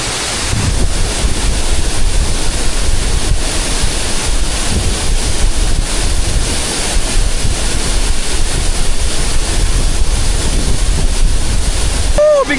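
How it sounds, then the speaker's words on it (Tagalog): Strong wind buffeting the microphone at Tekkip Falls in Benguet, a continuous loud roar and rumble mixed with rushing water, steady for the whole stretch. "Bigla lumakas yung hangin."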